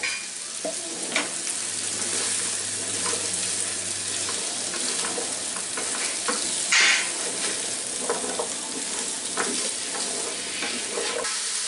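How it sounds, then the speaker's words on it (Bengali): Sweet pumpkin and small shrimp fry in a pan with a steady, close sizzle, broken by the scrape and clatter of stirring throughout; no one speaks. "দিয়ে এটাকে মিলায় একটু ভেজে নিব।"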